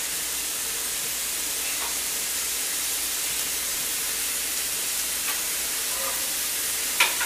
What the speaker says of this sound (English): we're just going to talk over the sizzling meat